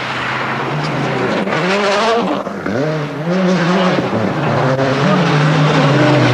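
Rally cars on a special stage of Rally GB 2003, one car being overtaken by others; loud close engines rev and shift in rising and falling pitch sweeps as the cars pass, with a faint voice underneath.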